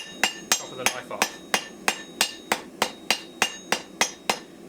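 Hot steel of a knife blank being trimmed on a hot cut with a hammer: fourteen sharp metallic blows in a steady, even rhythm, close and clear, with no talk.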